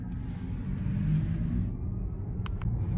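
Inside a Mercedes-Benz EQE electric car slowing under strong regenerative braking, a low, steady road rumble fills the cabin. Higher tire and wind hiss fades partway through as the car nearly stops.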